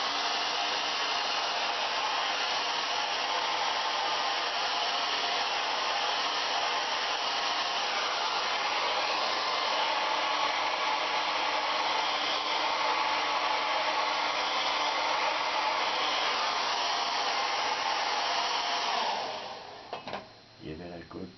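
Hair dryer blowing steadily on painted canvas frames, a loud, constant whooshing roar that holds for about nineteen seconds before cutting off, followed by a few faint clicks and handling sounds.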